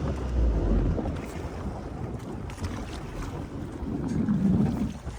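Northeast monsoon wind blowing at sea around a boat, a steady rushing roar buffeting the microphone with water wash beneath, loud and continuous.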